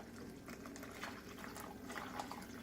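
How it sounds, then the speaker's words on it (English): Water poured into a cooking pot along with kidney beans, a quiet continuous splashing and bubbling fill with small irregular splashes, faint and close, with no voices. "we are going to add about 3 cups of water and our kidney beans"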